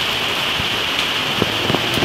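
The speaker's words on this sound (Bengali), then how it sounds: "কি পরিমাণ বৃষ্টি পড়ছে দেখো" Heavy rain from a cyclone storm pelting down over a vegetable garden, a loud continuous hiss with scattered closer drop impacts and light thumps.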